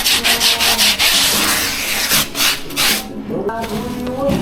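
A brush scrubs a 2018 Giant ATX bicycle during a wash, giving loud, close, rhythmic rubbing strokes that continue alone for several seconds before easing off.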